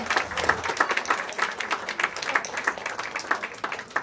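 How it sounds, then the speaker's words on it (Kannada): A crowd applauds at the launch of Guarantee News, a Karnataka news channel: dense, continuous clapping that holds steady and loud throughout. "ಗ್ಯಾರಂಟಿ ನ್ಯೂಸ್, ಬರಲಿ ಜೋರಾದ ಚಪ್ಪಾಳೆ"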